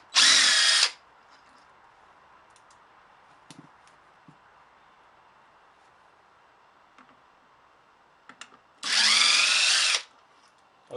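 A power tool undoes bolts in a crisscross pattern on a 1987 Honda CR250 motorcycle: two loud, whining bursts about a second long, separated by quiet with faint clicks and handling of parts.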